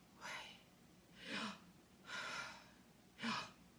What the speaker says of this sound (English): you inhale and exhale.